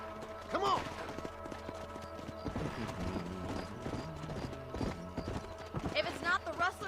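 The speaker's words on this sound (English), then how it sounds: "Let's get back on the horses and see what else is going on." Hooves of horses galloping in the Western game Red Dead Redemption, a busy clip-clop rhythm with a brief neigh, heard close beneath game music and a talking voice.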